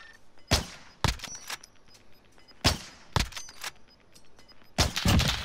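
Bursts of gunfire in a shooter video game: sharp, loud volleys of shots arrive in clusters of about five or six, separated by brief quiet gaps, ending in a longer sustained burst, with no talking.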